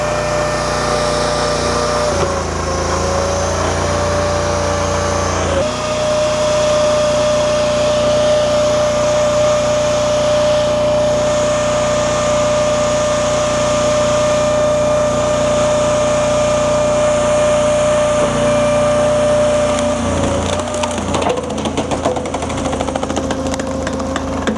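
Honda iGX800-powered Wolfe 42 XDI extreme duty industrial wood splitter running a dry cycle with no log: loud steady engine drone with a hydraulic whine as the wedge travels, shifting pitch as the stroke starts and reverses, no voices.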